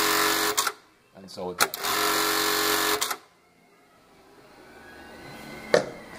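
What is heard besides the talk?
Juki LK1900B industrial sewing machine cycling a pattern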